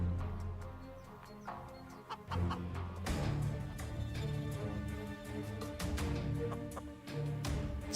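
Chickens cluck repeatedly in a Counter-Strike match during an ESL Pro League esports broadcast, mixed among busy game sounds, gunfire-like clicks and background noise at a steady moderate level without speech.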